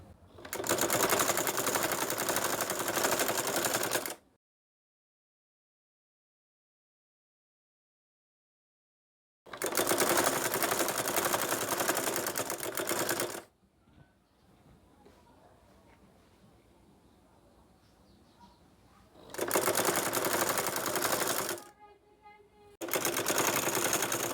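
A domestic sewing machine runs in three long, loud bursts as it stitches gathered fabric onto the body of a baby kaftan dress, with quiet rustling and handling sounds in the pauses between runs.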